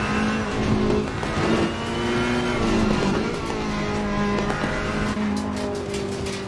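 A Ferrari 488 race car in Assetto Corsa Competizione laps Alton Park, its engine droning loudly and steadily through gear changes, with brief tire squeal and rising and falling revs.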